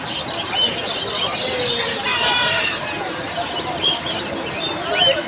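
Pigeons coo and chirp amid a busy weekly pigeon market in Fatullah, Narayanganj, with constant crowd chatter and people talking close by, bird calls rising intermittently through the din.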